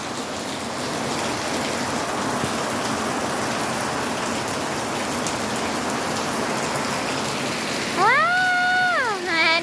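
Heavy rain falls in a steady, loud, close hiss, and a short tonal rising-and-falling sound enters near the end over the downpour.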